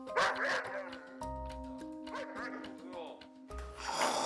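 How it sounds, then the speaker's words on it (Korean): A pet dog named Dori barks and yips at its owner in a few short, close outbursts, with whiny vocal tones mixed in and a voice speaking in the background. "그런데 갑자기 보호자를 향해 짖기 시작합니다"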